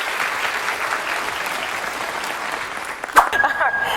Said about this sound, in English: I think I hear a Like a round of applause in the background.